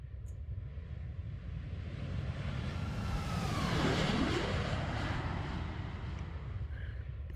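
An Airbus A321neo does a simulated flyby in X-Plane 12, a broad engine roar rising and sweeping past with a falling whine, steady and moderately loud throughout.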